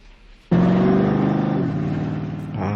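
The Bigfoot monster truck rolls in with a sudden loud engine roar that holds steady and revs, its tone dipping and rising again near the end.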